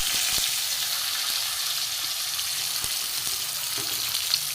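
Carrots dropped into hot mustard oil with panch phoron for Bengali cucumber shukto, a steady loud hiss of frying throughout, with a few faint clicks of the pan.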